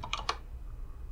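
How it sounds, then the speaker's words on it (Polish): A few quick keyboard key presses while entering a code in the Five Nights at Freddy's 4 menu, three light clicks in under half a second, then quiet. "trzeba po prostu wpisać na klawiaturze"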